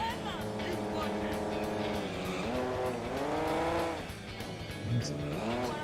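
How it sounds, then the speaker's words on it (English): Ferrari engine revving in a Dreamcast racing game, with harmonic pitch sweeps rising and falling as it accelerates and shifts, loud and continuous, mixed with tire noise and a brief knock near the end. "There's a Ferrari."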